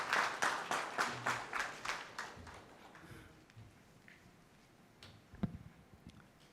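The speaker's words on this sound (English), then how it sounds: "Let's have a big round of applause." A conference audience applauds a panel in rhythmic, evenly spaced claps that gradually fade and thin out into a few scattered claps.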